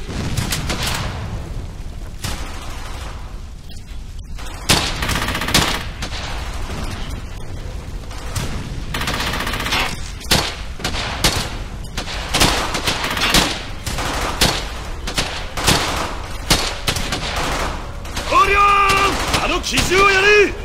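Loud, continuous machine gun fire and explosions from the World War II video game Brothers in Arms: Hell's Highway crackle in repeated bursts, with voices calling out over the battle and a few sharp pops near the end.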